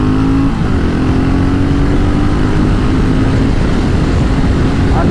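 A 2022 BSA Gold Star motorcycle under way on a test ride, its engine note loud and steady close up, with the pitch shifting as it changes speed, heard alone without talk.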